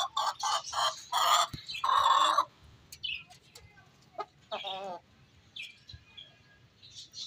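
Loud, agitated squawks and clucks from a rooster and hen fighting in a burst, then scattered sharper calls and chirps as the commotion settles.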